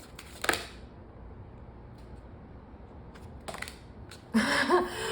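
A deck of tarot cards is shuffled in a few short, close riffling bursts separated by quiet pauses, the last burst longest.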